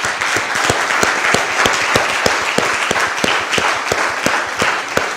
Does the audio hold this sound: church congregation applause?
yes